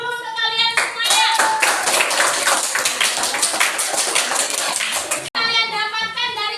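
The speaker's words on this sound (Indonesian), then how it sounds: "Aplaus dulu sekalian semuanya" Audience applause at a school supervision session, a dense burst of many hands clapping for about five seconds, with voices faintly mixed in and brief tonal sounds before and after.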